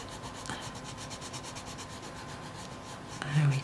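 A colored pencil pressed hard on paper while colouring a parrot, giving a close, quiet, steady scratchy rubbing of repeated back-and-forth strokes, slightly louder near the end.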